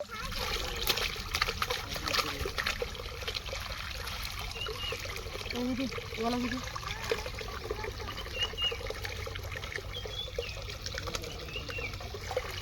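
Continuous trickling and splashing of running water with faint sloshing, steady and close, as salted fish is rinsed under a flow.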